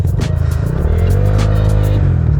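A small motorcycle engine revs loudly nearby, its pitch climbing and holding before dropping back, a rough throaty roar.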